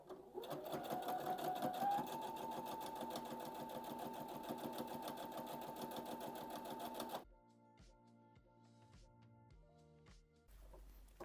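A sewing machine runs a holding topstitch, a fast, steady mechanical chatter for about seven seconds before stopping, followed by a few quieter clicks and handling sounds.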